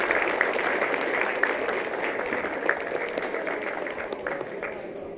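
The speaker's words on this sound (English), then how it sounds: "ask once more a round of applause for the ladies Vasilopita" An audience applauds at a Vasilopita celebration, steady clapping of a medium-sized crowd held at an even level throughout, fairly distant.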